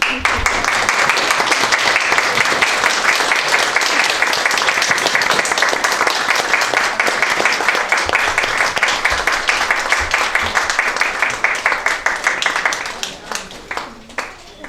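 An audience at a Seneca Falls town board meeting breaks into loud, sustained clapping close by. The applause fades into a few scattered claps at the end.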